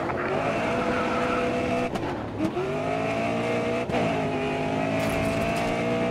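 A race car in the racing game GRID Autosport slides with squealing tires over a steady, loud engine roar, with short skid bursts breaking the drone.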